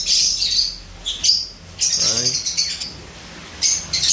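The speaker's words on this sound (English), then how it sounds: "I estimate anywhere between 60 to 70 birds in this cage right now." A crowded aviary cage holding some sixty to seventy birds fills the air with loud overlapping chirps and tweets, bright bursts of song rising and falling close by.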